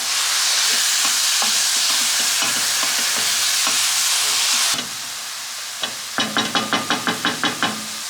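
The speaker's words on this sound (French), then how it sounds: "On met les oignons à cuire dans la poêle." Sliced onions cooking in oil in a frying pan: a loud, dense sizzle for several seconds that suddenly drops quieter, then a run of quick regular spatula knocks against the pan.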